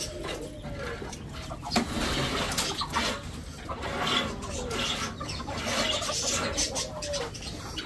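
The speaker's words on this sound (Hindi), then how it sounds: "ये चकोरों की लड़ाइयाँ कुछ ज़्यादा ही हो गई हैं" Agitated chukar partridges cluck and squabble in a busy, noisy scuffle in their cages, with scratchy flurries and a constant background din.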